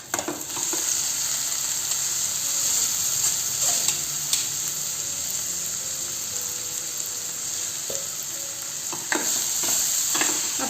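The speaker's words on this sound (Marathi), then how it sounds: "हे सर्व छान परतून घ्यायचं आहे" Sprouted moth beans are stir-fried in oil over a medium flame for Kolhapuri misal, giving a loud, steady sizzle with occasional spatula scrapes and ticks against the pan.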